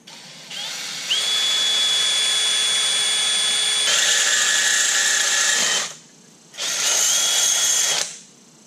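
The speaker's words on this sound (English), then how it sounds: "Now we just drill through it." A power drill whines steadily through a metal boost controller bracket on a turbo Miata in one long run with a rising high-pitched squeal, stops briefly, then bites in again for a shorter burst.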